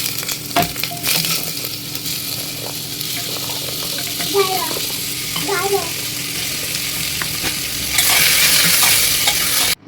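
Vegetables sizzling and frying in hot oil for sambar, with steady crackle, stirring scrapes and a brief louder hiss near the end; a faint voice is heard in the background.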